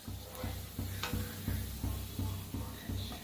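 Chakli dough spirals frying in hot oil, giving a continuous crackling sizzle with a regular pulsing bubble rhythm, close and fairly loud.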